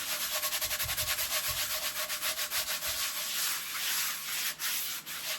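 A folded paper towel loaded with salt is scrubbed back and forth over a raw ribeye steak, producing a close, steady, rhythmic rasping like sandpaper, with no talking.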